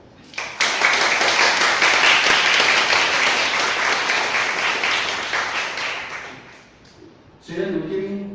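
A church congregation claps together at a Taiwanese-language elder-honoring Sunday service, a sustained broadband wash of applause lasting about six seconds before fading, followed by a voice resuming speech.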